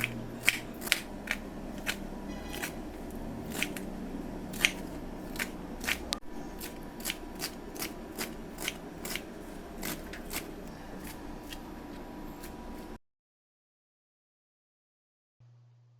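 Rapid knife chopping of water spinach finely on a board, a steady series of sharp crisp cuts close by, stopping abruptly near the end.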